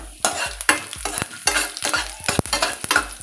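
Chana dal, urad dal, dried red chillies and cumin drop into hot oil already spluttering with mustard seeds, giving bursts of loud crackling sizzle broken by repeated scrapes and clinks of a stirring spoon against the pan.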